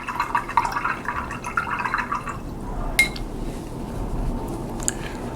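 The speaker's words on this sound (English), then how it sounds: "Now clean the brush." Soft watery swishing and faint dripping close by, with a few small clinks, as a brush is rinsed in water.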